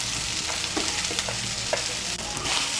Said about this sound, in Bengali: চাপড়টাকে মিশিয়ে নেব ভালো করে উচ্ছের সঙ্গে।